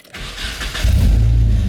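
A car engine cranks over briefly and catches, settling into a loud, steady idle close by, with no talking.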